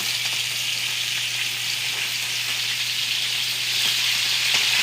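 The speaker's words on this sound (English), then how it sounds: "my salmon over here is starting to show me that it's got a brownish, crispy edge. So I'm going to flip them." Salmon fillets sear in a hot frying pan, giving a loud, continuous, even sizzle throughout with faint rattles as they are flipped.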